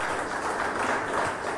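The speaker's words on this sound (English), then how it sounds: "We want you to give a hand of applause, a big hand" Steady applause from an audience at a football association event fills the room, a dense continuous wash of clapping with no voices over it.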